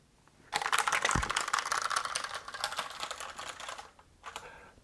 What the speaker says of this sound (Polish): to jest klawiatura mechaniczna Logitecha, malutka, designerska